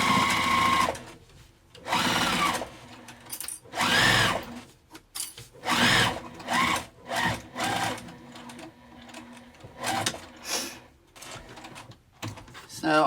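A sewing machine stitches a makeup zipper bag in repeated short bursts of rapid mechanical whirring, stopping and starting several times, close up with no talk.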